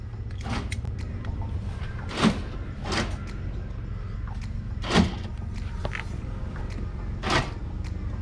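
A Patrol's rear-corner central locking door actuator cycling, heard as a few brief, sharp mechanical clunks spaced a couple of seconds apart over a low background hum.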